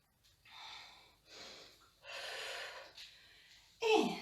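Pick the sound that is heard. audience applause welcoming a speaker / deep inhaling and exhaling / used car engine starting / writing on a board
deep inhaling and exhaling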